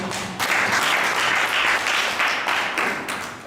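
An audience at a legal program in an Islamic boarding school applauds the judges, a steady burst of many hands clapping that swells and then fades slightly.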